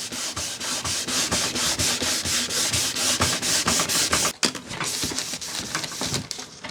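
Wet-and-dry paper rubbed over a Paillard 3610B radio part in quick, even back-and-forth strokes, a close, loud rhythmic rasping that pauses briefly midway before softer strokes resume.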